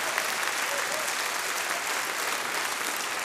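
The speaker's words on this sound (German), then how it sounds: "Die Applaus." Steady, dense audience applause at a Swiss folk music gathering at a farm-equipment company venue in Ramsei, a uniform loud wash of many hands clapping without pause throughout.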